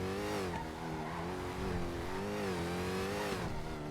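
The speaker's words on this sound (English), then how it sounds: "if there's any one thing that I don't love about this car, it's how fucking loud it is" Very loud car engine in GTA V roleplay on NoPixel, a steady sustained roar with rising and falling revs, close and alone throughout.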